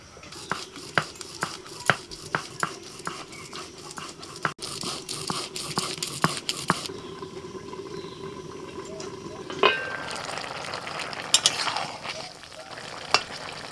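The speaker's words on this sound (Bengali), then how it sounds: "ঝিঙে আর আলু ভাজা হয়ে গেছে, অল্প করে জল দিয়ে দেবো সিদ্ধ হওয়ার জন্য।" Ridge gourd and potatoes fry in a pan in a village kitchen, a steady sizzle punctuated by sharp clicks and scrapes of a spatula stirring, shifting partway through to a quieter, more watery bubbling as water is added.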